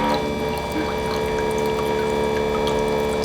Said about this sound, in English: Look at that nice clean water coming through